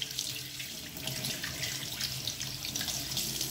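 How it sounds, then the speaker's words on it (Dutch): Water runs steadily from a tap into a sink as hands are rinsed, a continuous close splashing hiss with no talking. "Dan zet je de kraan open en spoel je het heel goed af."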